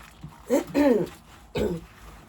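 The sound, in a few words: coughing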